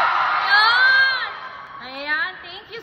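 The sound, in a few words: crowd shouting and cheering at a homecoming event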